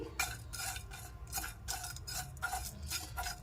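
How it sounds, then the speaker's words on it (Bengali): Spices are dry-roasted in an empty wok for a cauliflower rezala, stirred with a spatula in steady, rhythmic scraping strokes about twice a second, fairly quiet and close, with no talking. "এবার শুকনো কড়াইয়ের মধ্যে মশলাটাকে ভেজে নিচ্ছি"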